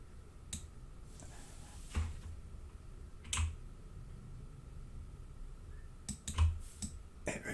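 Sparse, quiet computer mouse clicks in a clone tool image-editing session, a few sharp isolated taps spaced seconds apart against a faint background hum.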